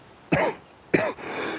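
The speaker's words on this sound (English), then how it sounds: "I've gotten a bit of a cough on because the hay fever season's changed" A person gives two separate throaty coughs about half a second apart, close and fairly loud. Rough breathing follows the second cough.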